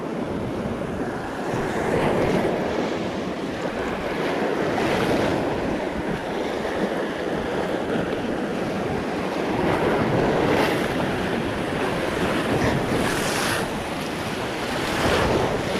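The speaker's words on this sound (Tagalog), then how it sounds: "Grabing alon yan." Heavy surf crashes and rolls continuously on a lake, with loud wave surges every few seconds and wind buffeting the microphone; no one speaks.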